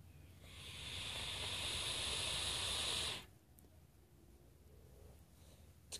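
Strawberry coconut e-cigarette being vaped up close: a steady, airy hiss rises and holds for nearly three seconds, then cuts off, leaving faint room quiet.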